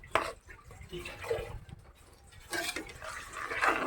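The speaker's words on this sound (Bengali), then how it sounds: "আর একটু পানি দেওয়া লাগবে" Water is poured in bursts into a pot of lentil dal on a home stove, uneven splashing and trickling up close, with faint background noise between pours.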